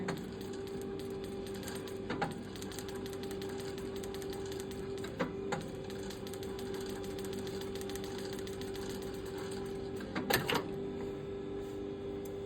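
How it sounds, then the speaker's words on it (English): A sewing machine runs steadily, stitching quilting lines on a corset. Its close, even mechanical whir holds throughout, with a few sharper clacks at intervals. "I want to go on the same stitch holes"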